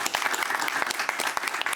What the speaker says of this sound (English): please, a big round of applause for our very worthy winner